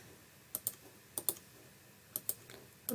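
Computer mouse clicks while duplicating shapes in a tutorial, sharp isolated clicks in pairs, about six or seven crisp taps close up against quiet room tone.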